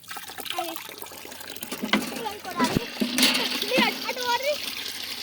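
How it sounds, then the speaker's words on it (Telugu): Water from a borewell gushes out of a pipe on a farm plot, a continuous splashing rush with louder surges, heard under nearby talking. "అటు నీళ్ళు వస్తున్నాయి."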